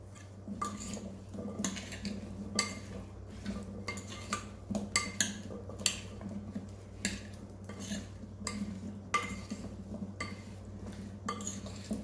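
Butternut squash being tossed with olive oil in a bowl, a steady run of light clinks and scrapes from a utensil against the bowl over a constant low hum, with no talking.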